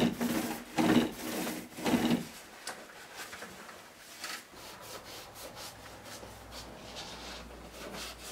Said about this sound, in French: ensuite on repassera donc pour égaliser les bords avec le petit rouleau